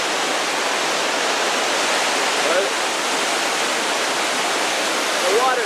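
A waterfall in Johnston Canyon roars as water crashes down nearby, a dense, constant, loud rush heard from a small cave beside it.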